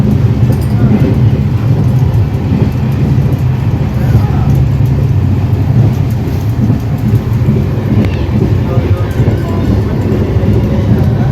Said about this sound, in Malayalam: ട്രെയിൻ ഇപ്പോൾ നല്ലൊരു സ്പീഡിൽ തന്നെ കേട്ടോ പോയിക്കൊണ്ടിരിക്കുന്നത്.